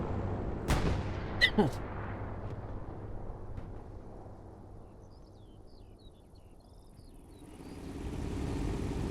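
Strafing run gunfire in a tank video game on the Kursk Windmills map, with a couple of loud cracking blasts early, then fading rumble and chirping ambience before the low roar swells again.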